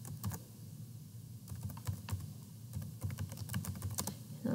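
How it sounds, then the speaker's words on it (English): Fingers type on a computer keyboard in quick, irregular clusters of crisp key clicks, close and fairly quiet over a low room hum. "Here I will type the name for my recording, title for my recording."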